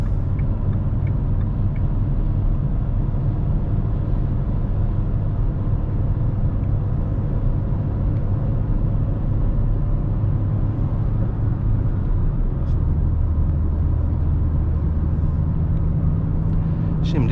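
Steady droning engine rumble from a 2020 Dacia Duster running on LPG as it climbs a hill, strained and constant from inside the cabin, with road noise and a shift in pitch near the end.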